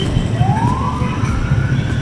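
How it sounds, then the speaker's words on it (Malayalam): An ambulance siren sweeps up and holds a wailing tone in dense Bangalore evening traffic, heard at a moderate distance over a constant rumble of engines. "ആംബുലൻസ് ഹോണടിക്കാം, സൈറനിടാന്ന് മാത്രമേ ഉള്ളൂ."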